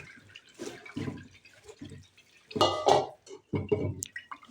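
Water is poured over thin-cut potato strips in a strainer to rinse them for crispy fried potatoes. Soft, irregular splashes and drips come in short bursts, close but fairly quiet, with no talking.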